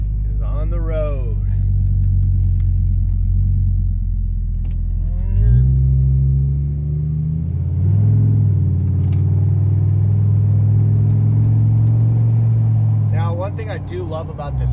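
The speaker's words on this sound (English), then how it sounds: "it's got a very awesome exhaust tone to it" A Ford F-150 truck with a 3V V10 engine drives on the road, its deep exhaust rumble steady and close throughout, while a voice talks briefly at the start, middle and end.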